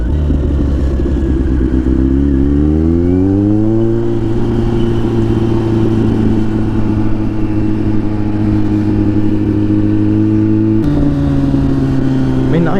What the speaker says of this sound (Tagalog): So, should use engine brakes.